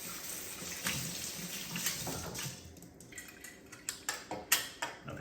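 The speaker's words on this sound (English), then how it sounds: "So rinse the lid." Water rinsing a beer keg lid under a tap, a faint steady splash with a series of sharp metallic clinks and knocks toward the end, no talk.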